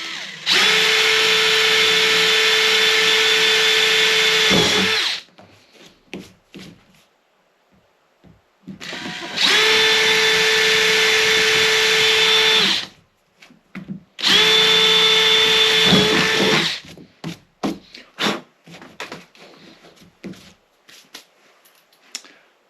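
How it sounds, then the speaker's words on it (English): A power drill boring 5mm holes into a kayak hull, three loud sustained bursts of a few seconds each with a steady motor whine, separated by pauses filled with handling clatter, close up. "Drilling out a couple of 5mm holes again."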